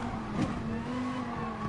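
A Viper GTS race car runs at Spa-Francorchamps in a racing video game, its engine holding a steady, even drone with a brief tire-squeal flick near the start.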